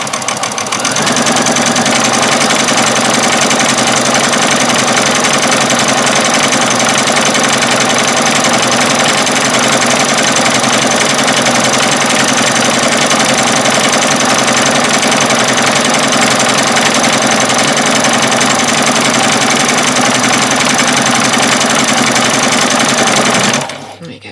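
A sewing machine runs continuously for over twenty seconds, stitching a doll's dress: a loud, even, rapid mechanical whir close by that holds steady before stopping abruptly at the end.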